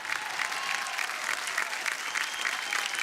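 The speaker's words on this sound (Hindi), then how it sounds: "जोरदार तालियां इस बेहतरीन राउंड के लिए।" Audience applause at the end of a power play round in a competition, a dense, steady wash of clapping from a crowd that stays level for a few seconds.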